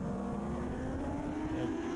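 Onboard with Richard Charlton on racing motorcycle number 42 at a road race, the engine drones loud and steady at high revs, close to the microphone, with constant wind rush and no talk.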